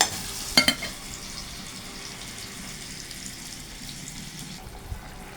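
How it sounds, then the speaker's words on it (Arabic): Tomatoes simmering and frying in a pan for an Egyptian chicken and zucchini tray bake, a steady soft sizzle throughout with a couple of brief clinks near the start. "نبدا ناخد الطماطم كلها ونسيبها تتسبك كده براحتها"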